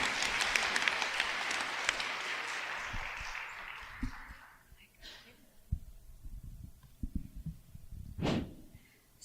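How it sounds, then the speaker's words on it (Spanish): Audience applause for a panel at a conversation event, a burst of clapping that fades out after a few seconds, followed by quiet room noise and a few soft knocks. "Un aplauso para el panel, por favor."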